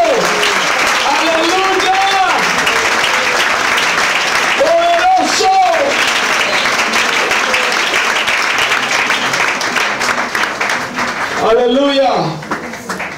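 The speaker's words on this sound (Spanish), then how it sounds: "Denle aplauso al que es estratégico para salvar al ser humano." A church congregation applauds steadily and loudly for the whole stretch, with a preacher's voice shouting praise over the clapping and a burst of vocal response near the end.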